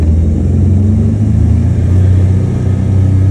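A boat's motor rumbles loudly and close, building in a deep, steady drone as the throttle is opened near a marina, with no talking over it.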